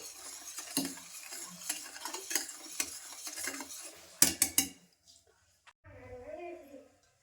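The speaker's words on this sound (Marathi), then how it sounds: "ह्याला व्यवस्थित मिक्स करून घ्यायचं" Food being stirred and mixed in a pot with a spoon, a run of scraping and clinking strokes at close range, then a few sharp clatters before it quiets, with a voice speaking over part of it.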